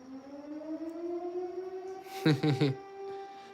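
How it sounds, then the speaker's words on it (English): Outdoor air raid sirens wail in a long, slowly rising and sustained tone at moderate distance, with a short burst of nearby talk over the middle. "Oh, there's the air raid sirens going off."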